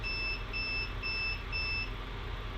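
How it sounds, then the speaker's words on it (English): An RV battery meter's low-voltage alarm on a lithium 100Ah battery sounds four evenly spaced high electronic beeps over a steady low background hum, with no talking. "Now the battery meter is actually alarming,"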